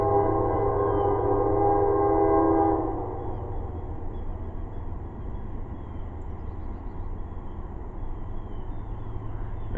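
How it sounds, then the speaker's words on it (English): A train blowing a loud sustained multi-tone horn near a crossing, the blast cutting off after about three seconds and leaving a steady rumble of rail cars rolling past for the rest of the clip. "Here comes our train again. It's blowing the horn at every crossing."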